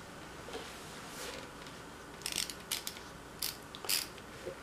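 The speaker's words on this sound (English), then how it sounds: "did I show you my ratchet screwdriver?" A ratchet screwdriver turned by hand in a ukulele workshop, giving a handful of quick, light clicking bursts in the second half against a faint background hiss.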